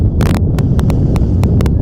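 Gusty wind roars steadily across the microphone at an outdoor high school boys' varsity soccer field, a loud, continuous low rumble broken by a few sharp clicking pops.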